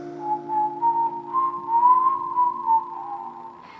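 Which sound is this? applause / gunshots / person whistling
person whistling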